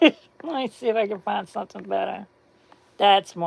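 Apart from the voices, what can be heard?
None of the usual background noises is heard.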